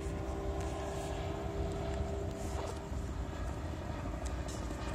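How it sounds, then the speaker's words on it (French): Small helicopter passing overhead outdoors, a steady, broad engine and rotor drone that stays fairly even throughout, with no talking over it. "il y a un petit hélicoptère qui passe"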